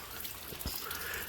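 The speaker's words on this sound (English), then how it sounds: "It was pouring down rain, and I'm dressed for success." Heavy rain pours over a car while driving, a steady dense patter and wash that stays constant and fairly loud throughout, with no voices.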